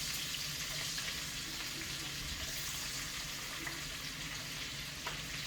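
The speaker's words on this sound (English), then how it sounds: "now it's time to start adding the vegetables into the saute. Green peppers, the peppers in first" Green peppers sautéing with onions in a pan, a dense continuous frying hiss that stays steady and close throughout.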